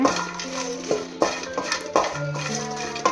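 Garlic frying in a pan while a metal spoon stirs it, with repeated scraping clinks in an uneven rhythm over a steady low sizzle, close and fairly loud.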